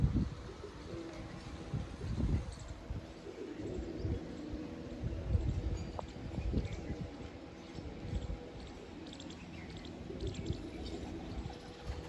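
Pigeons at a house rooftop, caught under a thrown net, coo in a dense, steady low murmur with occasional soft wingy bursts, close and continuous throughout with no talk.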